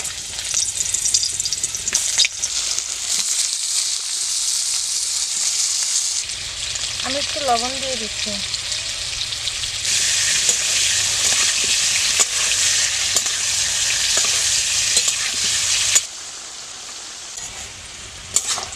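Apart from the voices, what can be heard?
frying taro pieces in oil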